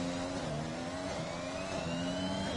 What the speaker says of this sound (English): A lot of cars scrambling here.